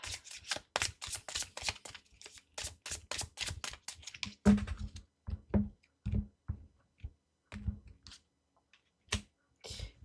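Oracle cards shuffled by hand in quick, crisp riffling bursts, close and fairly quiet, starting rapid and continuous, then thinning into scattered taps and slides of cards.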